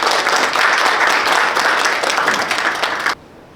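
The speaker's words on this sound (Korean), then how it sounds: "큰 박수로 맞이해주시기 바랍니다." A crowd at a literary award ceremony applauds in a dense, steady burst of clapping lasting about three seconds, then stops abruptly and leaves near silence.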